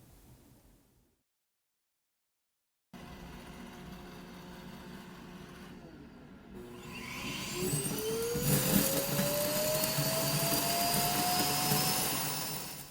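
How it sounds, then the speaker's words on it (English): iRobot Roomba i8+ self-emptying dock sucks debris out of the robot's bin. A loud, steady motor roar starts after a brief silence and builds, with a whine rising in pitch. No speech. "The robot itself is very quiet, but the self-emptying dock is pretty loud."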